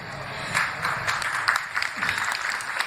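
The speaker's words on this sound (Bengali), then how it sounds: "হাততালি দেবেন না, এটা সকলের কাজ।" An audience claps at a golden jubilee birth festival gathering. The clapping is a dense, steady patter of many hands that lasts the whole few seconds at moderate loudness.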